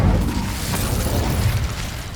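A fiery Incendio spell cast in Hogwarts Legacy erupts as one loud, continuous roaring blast of flame lasting about two seconds, close and heavy, with no voices.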